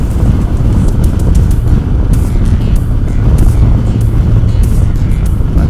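A trike's engine revving hard while accelerating in fourth gear on the road: a loud, steady, close droning rumble with rushing wind noise and no pause.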